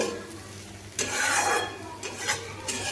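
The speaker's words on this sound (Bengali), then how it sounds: "এইভাবে এইভাবে নেড়ে নিচ্ছি" Fried bitter gourd sprinkled with poppy seeds being turned in a pan: several distinct scraping stirs of a spatula over a low continuous sizzle, close and fairly quiet, with no voices.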